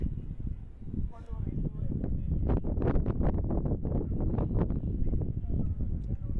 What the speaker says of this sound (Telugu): గాలి అయితే విపరీతంగా అయితే పెడుతుందండి.